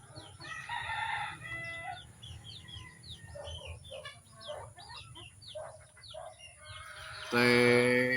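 Chickens cluck and chirp in a busy coop, several birds calling over one another, with a louder burst of squawking near the end.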